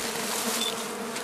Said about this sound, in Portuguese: Aqui a abelha nova, não pode ficar, não é bom deixar cair muito a abelha nova no chão